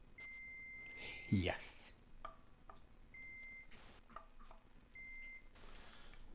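A multimeter in continuity mode, used to check the shielding on a Squier Stratocaster guitar, gives three sustained electronic beeps of about a second each, separated by brief gaps; a voice speaks briefly.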